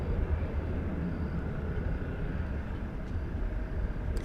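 A jet taking off from runway 18 left at Dallas Fort Worth airport, a steady, distant engine roar and rumble held at an even level throughout, with no speech.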